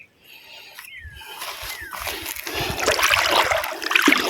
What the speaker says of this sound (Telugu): మనకు కోనకాలువ నీరు పారుతుండే చూడండి